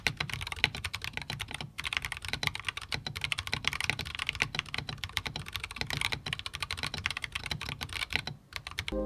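Rapid, steady typing on a newly built budget mechanical keyboard, dense clacky keystrokes close up, with only brief pauses around two and eight and a half seconds and no talking.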